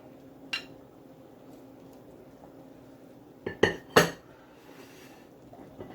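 A metal spoon knocking against a cooking pot while Jamaican red peas soup with beef is served, with one clink early and then a quick cluster of three sharp clangs against a quiet kitchen background.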